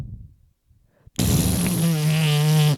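Voice imitating a loud fart, a sudden sustained buzzing raspberry lasting over a second after a brief quiet pause, loud and close.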